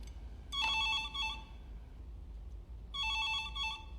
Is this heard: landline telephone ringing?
yes